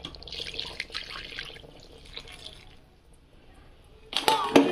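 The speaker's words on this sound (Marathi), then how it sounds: "पाणी टाकून घेऊ." A faint splash and trickle of water runs early on, then a louder burst of pouring into a pot of salted fish near the end.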